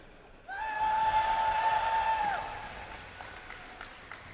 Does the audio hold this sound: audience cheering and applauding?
yes